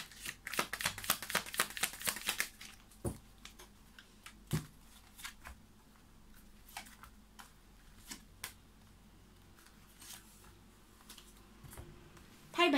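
Tarot cards being shuffled in a rapid burst of crisp riffling clicks, then scattered single card snaps and taps with quiet gaps, fairly close and moderately quiet.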